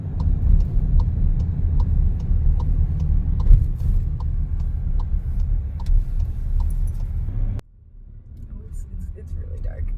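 A car drives along a dark road at night on the way back to a trailer during a Quebec road trip, with a steady low engine and road rumble and faint rhythmic ticking, then the engine noise drops away sharply near the end as it slows.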